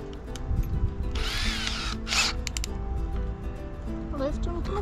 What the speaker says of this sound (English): Grab my 4mm drill bit because these are quite small screws.